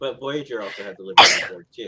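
A single loud, sharp sneeze bursts out in the middle of casual podcast-style conversation, cutting through the talk briefly before the speech resumes.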